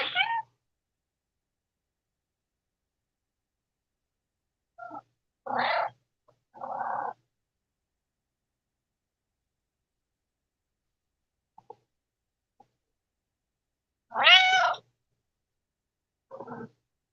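A pet cat named Kitty Joe meows in a quiet room, a few separate short calls spaced far apart with long silences, one louder and longer near the end.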